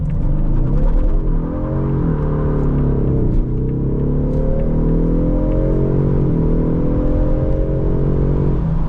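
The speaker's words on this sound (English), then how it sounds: "let's do a quick little acceleration" A 2026 Ford Mustang EcoBoost accelerates hard with a loud, close engine note that climbs steadily through the gears, each upshift marked by a brief dip before the pitch rises again.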